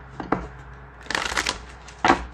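Close, crisp shuffling of a Queen of the Moon Oracle card deck, with a couple of quick riffles and card slaps over a brief two-second stretch.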